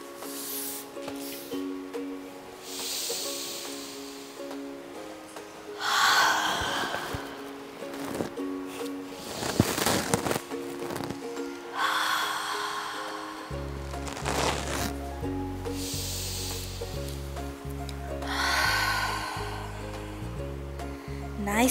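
A group of children aged 9 to 12 breathes slowly and audibly together in a yoga class, soft drawn-out whooshes of inhale and exhale rising and falling over gentle background music.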